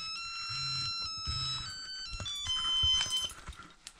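A series of short electronic beeps from a car alarm key fob, a few tonal chirps in quick succession, close and fairly quiet, followed by faint handling noise.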